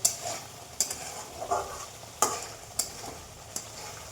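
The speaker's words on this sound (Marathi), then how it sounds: "छान असं शिजले असं तेल सोडायला लागलं म्हणजे छान मसाले आपले शिजत आहेत" Spiced masala for Rajasthani gatte curry sizzles in oil with yogurt while a spoon scrapes and stirs the pan in several distinct strokes, close by, with no talking.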